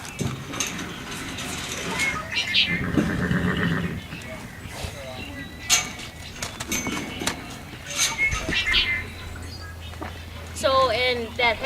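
A horse neighs and whinnies in several loud, wavering calls, with hoof clip-clop and shuffling nearby and a person talking between the calls.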